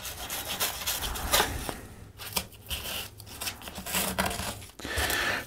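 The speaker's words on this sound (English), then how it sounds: "cut that down to about the same level as the riser without cutting into the riser as best as we can get it" Spray foam being cut and rasped down to riser level on an N scale model railway hillside, giving continuous close scraping and rubbing with short strokes and brief pauses, no talking.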